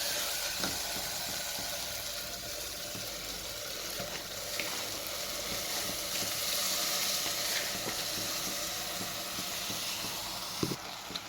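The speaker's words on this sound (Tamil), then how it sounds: "ரைஸ் சேர்த்ததுக்கப்புறம் நம்ம மசாலாவோட ஒரு 2 நிமிஷம் இதை ஃப்ரை பண்ணிடலாம்" Washed rice stirred and frying with masala in oil gives a steady, moderate sizzle and hiss with occasional scraping stir clicks, continuous for several seconds and without speech.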